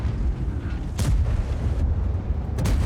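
Heavy tank gun fire in World of Tanks, from a T95E6 in battle: a sharp broadband blast, then a second boom near the end, over a constant low rumble of engine and battle noise.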